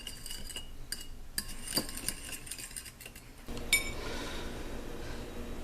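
Eggs whisked with black pepper, salt and a drop of milk in a bowl, light metallic clinks and taps of a utensil against the dish, then a softer steady swishing, fairly quiet.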